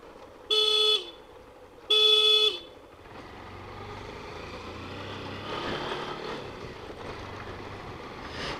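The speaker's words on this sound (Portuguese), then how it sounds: "Buzinadinha aí, a casa do meu sogro." A vehicle horn on a road trip through Ceará, Brazil, blasts two short, loud honks close by, followed by a steady rumble of engine and road noise.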